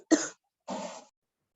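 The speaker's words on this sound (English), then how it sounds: "The person who is coughing, please mute yourself" Two separate coughs from a participant in an online biology class, close and fairly loud, the first sharp and the second longer and rougher, with silence between and after.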